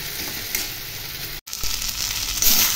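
Radish greens being stirred in a pan, a steady sizzle with scraping and rustling of the leaves, close and fairly loud, broken by one brief dropout.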